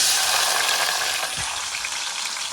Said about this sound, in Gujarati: હિંગ વગર વઘાર મારવાનું છે ઓનલી ફોર જીરામાં.